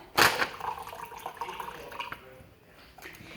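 Rice wine vinegar poured for a tuna poke dressing, a brief splashing start followed by soft trickling and drips.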